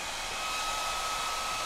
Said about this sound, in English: You take a hair dryer, you turn it on your dog